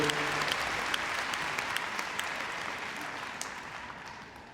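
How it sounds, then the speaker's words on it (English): An arena audience at the Crufts 2016 dog agility competition breaks into loud, sustained applause after a run, a dense wash of clapping that slowly tapers off. "they deserve a round of applause"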